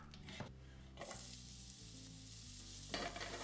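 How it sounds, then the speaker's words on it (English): Sliced red onion sizzles in a hot pan, a steady crackling fry running the whole time with a few louder bursts and scrapes, and no voices. "I'm going to slice my red onion and drop that straight into the hot pan"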